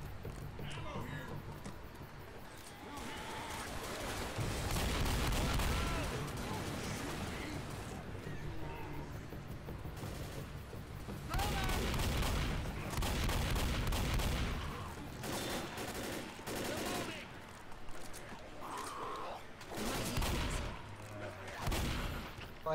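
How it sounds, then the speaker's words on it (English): Sustained rapid minigun fire in the zombie shooter Left 4 Dead, loud and continuous in several long bursts, with shouting players talking over it throughout. "I thought that was a fucking minigun."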